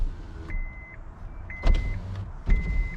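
Power windows on a 2006–2007 Honda Accord run in several short bursts, each a thin motor whine that ends in a soft thump as the glass stops, heard from inside the car.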